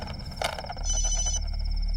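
A telephone rings in a scene from a Hindi-dubbed film, a short burst of electronic trilling that turns into a steady, sustained ring over a low background hum.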